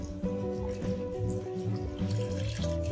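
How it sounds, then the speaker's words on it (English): Beef broth pours steadily into a pot of Southern whiskey chili, a continuous liquid stream with bubbling gurgles lasting about three seconds, close and fairly loud. "Now we're gonna add the broth. I'm adding beef broth to this one."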